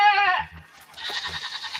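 A goat on a rural property near Bellingham gives one short, nasal bleat, followed by a moment of quiet and then soft rustling noise.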